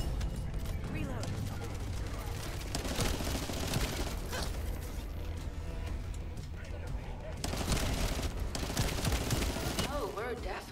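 Video game gunfire during an infiltration mission, dense bursts of rapid shots and mechanical clatter running continuously over game sound, with louder volleys toward the end.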